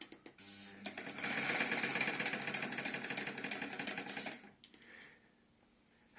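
A Singer 316G zigzag sewing machine runs smoothly for roughly three seconds, a steady, close whirring hum with a fast mechanical patter, then winds down and stops.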